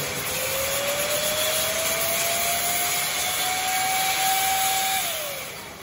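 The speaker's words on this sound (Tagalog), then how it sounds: "Air duster." Electric air duster blowing close by, a loud steady whirring rush whose motor whine slowly rises in pitch, holds, then drops away as it winds down.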